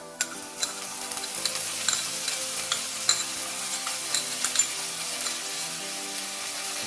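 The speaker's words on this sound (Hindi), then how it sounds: "अभी इसको लो फ्लेम में 3 से 4 मिनट तक अच्छे से फ्राई करेंगे।" Onions with ginger-garlic paste fry in a pan over a low flame, a steady soft sizzle broken by frequent scraping clicks from a spatula stirring the mix, with no talking.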